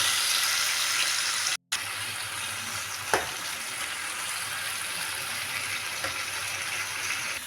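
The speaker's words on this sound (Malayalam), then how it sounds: "നമ്മുടെ ഉള്ളി കോരിയ എണ്ണയിൽ തന്നെ ആ കൂന്തൾ വാരിയിട്ട് നമ്മൾ പൊരിക്കും." Squid frying in oil left over from frying onions, with loud, close, continuous sizzling and crackle, a brief gap near the start and a few sharper pops along the way.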